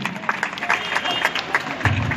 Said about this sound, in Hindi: उनको भी हम लोग जोरदार से एक बार तालियों के साथ स्वागत कीजिए